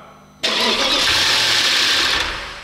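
An Audi S6 C5 4.2 V8 engine turns over and catches at once, then runs loud and steady with a rough mid-pitched roar close by.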